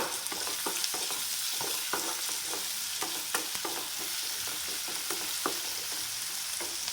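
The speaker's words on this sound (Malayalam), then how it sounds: "ഇത് നമുക്ക് നന്നായിട്ട് ബ്രൗൺ കളറാവുന്നവരെ വരെ വഴറ്റിയെടുക്കാം" Soya chunks sautéed in a pan for a dry roast, a steady bright sizzle of frying oil broken by frequent scraping, clinking stirs of a spoon against the pan, close and continuous with no talking.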